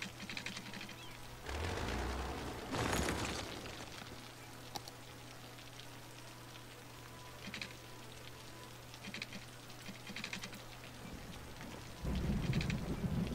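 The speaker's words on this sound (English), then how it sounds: "This is a rainy area right here." Steady rain falls in Cities: Skylines, with faint soft patter, occasional rumbling thunder swells and brief bursts of heavier downpour, quiet overall and with no talking.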